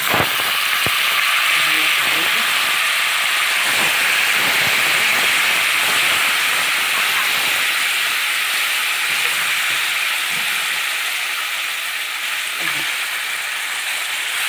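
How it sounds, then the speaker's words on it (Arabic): Beef sizzles and fries steadily over onions in a hot pan, a loud continuous hiss with occasional crackles, heard close and alone with no talking. "انزل مع حضراتكم بقى باللحمه كده على البصله"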